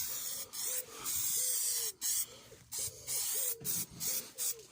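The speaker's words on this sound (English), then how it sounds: "before I fit that plate, I'm just going to give it a bit of black stone guard" Black stone guard is sprayed from an aerosol can onto a horsebox battery plate in short hissing bursts, about eight of them separated by brief pauses, close and clear.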